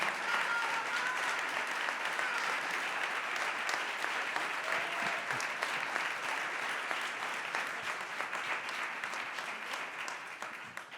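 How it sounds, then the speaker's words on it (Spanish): An audience claps loudly and continuously, a dense sustained wash of applause that tapers slightly toward the end. "quiero pedir un aplauso lo más fuerte que podáis para Román"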